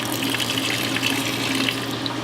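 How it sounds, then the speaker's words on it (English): Water poured into a live rock mix being stirred toward a pancake-batter texture, a steady wet splashing and trickling that runs evenly and fairly loud throughout, with no voices. "So now we're going to add our water to texture."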